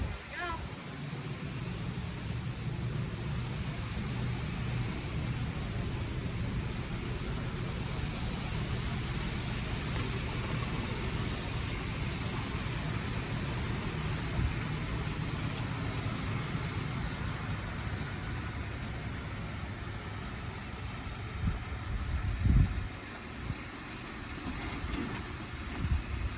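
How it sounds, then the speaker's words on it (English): A 2017 Jeep Wrangler JKU, fresh from a suspension upgrade, rolls out for its first drive with a steady, low engine rumble and road noise that stays fairly faint. A few louder knocks and thumps come near the end. "Rolling out the Jeep for the first time. Her test drive."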